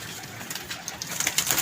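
Pigeons coo softly at a pigeon club, low throaty burbles repeating close by against a faint, busy background.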